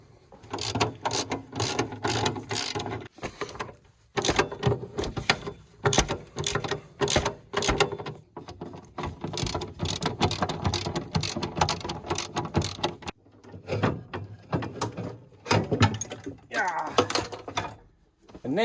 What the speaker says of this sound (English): there's more bolts to be undone